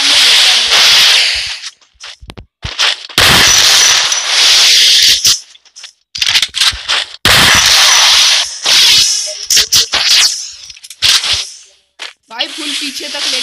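Gunfire in a mobile-versus-PC headshot shooter match, sharp loud bursts and single cracks in irregular clusters with silent gaps between, very close and harsh.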